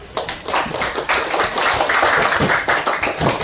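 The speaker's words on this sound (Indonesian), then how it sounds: "Kita kasih aplaus untuk hari ini." A classroom of students clapping together in applause, a close dense burst of many hands that builds and holds for a few seconds, with no talking over it.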